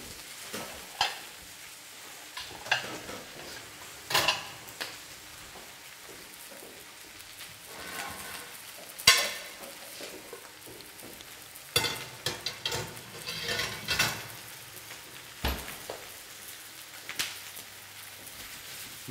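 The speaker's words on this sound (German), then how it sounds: "Dann noch ein Highlight, die Wachteleier hier anzubrutzeln." Quail eggs frying in a pan, a soft crackling sizzle punctuated by irregular sharp pops and clatters of utensils, with no one speaking.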